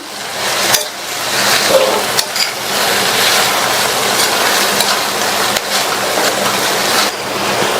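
Fresh coriander leaves sautéed in a pan for chutney, giving a loud, steady broadband sizzle and stir that runs continuously, broken by a few brief scraping knocks, with no talking.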